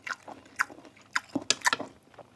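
Close, crunchy chewing of stir-fried field mushrooms in oyster sauce: a series of crisp, irregular bites and crunches with brief pauses between them.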